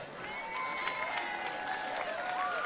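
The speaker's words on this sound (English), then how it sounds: "a round of applause for our princes tonight" Crowd applause and cheering for the homecoming princes at a high school football game between Villa Park High and Corona Del Mar, a steady, dense wash of clapping and voices lasting throughout, fairly loud, with tonal public-address or music sound mixed in.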